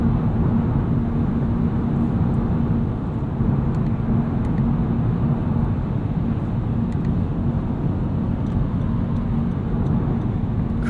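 A 2017 Honda Civic Hatchback Sport with a six-speed manual gearbox accelerates hard out of a corner, its engine a steady, loud, continuous drone heard close up from inside the cabin, with road noise underneath and no talk.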